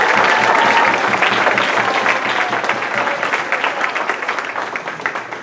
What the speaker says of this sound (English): the middle school kids deserve another round of applause for a great year